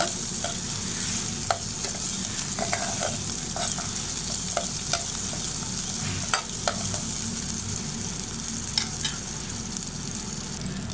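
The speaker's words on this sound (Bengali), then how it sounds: "বাদামগুলোকে আমি ঘিয়ের সাথে ভেজে নেব।" Nuts fry in ghee for sabudana vermicelli, a continuous close sizzle punctuated by frequent clicks and scrapes of a stirring spoon against the pan, with no talking.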